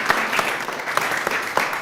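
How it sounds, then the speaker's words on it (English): An audience at a business-story event gives a round of applause, brisk, dense clapping from many hands that stays steady and fairly loud for about two seconds, with no voices over it. "Give Chantel another round of applause"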